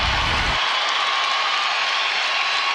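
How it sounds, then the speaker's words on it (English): A college basketball arena crowd in a Kansas State versus Texas Tech game roars after a foul, a dense, loud sustained cheer with applause that holds steady throughout. "how about this crowd letting them know it?"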